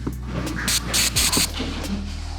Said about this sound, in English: So you don't wanna just spray because you're gonna go all over the place.